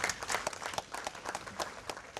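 Audience applause at a cricket awards ceremony: a room of people clapping steadily at moderate distance, a dense patter of hand claps without cheering.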